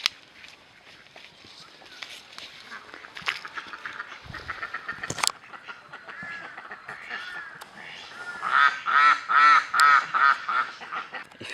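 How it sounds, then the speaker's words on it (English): White ducks quacking and honking in a rhythmic burst of loud, repeated calls toward the end, after quieter scattered calls and rustling outdoors. "there are some ducks here."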